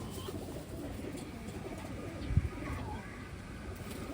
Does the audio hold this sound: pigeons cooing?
yes